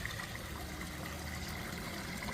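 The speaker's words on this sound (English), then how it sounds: "nothing like a lovely bit of water and the sound of waterfalls here" Small waterfall spilling into clear water outdoors in spring, a soft, even rush and trickle heard close and steady without any voices.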